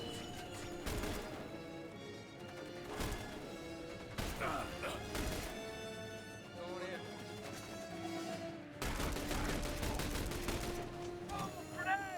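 Sustained gunfire from The Bureau: XCOM Declassified, with repeated bursts of shots across a loud, busy battle mix, overlaid by shouted combat voices.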